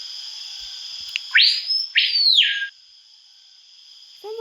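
The Feitianius, a bird creature in a video game, gives a clear whistle-like call: two bright, close, rising-falling whistles about a second long, then quiet, with a faint chirp at the end.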